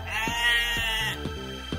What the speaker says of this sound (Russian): Овца – это мама.